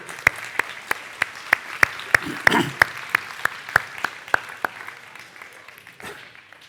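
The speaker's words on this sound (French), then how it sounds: "On applaudit Charlie." Applause at a mayor's New Year address in Saint-Germain-Nuelles comes as sharp, evenly spaced claps in a steady rhythm, fairly close, fading out toward the end.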